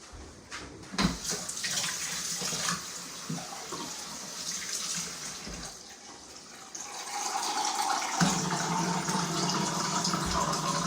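Water from a reverse osmosis kitchen tap runs steadily into a can, a continuous close hiss and splash that deepens and grows louder as the can fills, with no talking.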